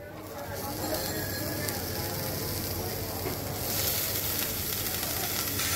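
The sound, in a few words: chopped bottle gourd added to a hot pan, sizzling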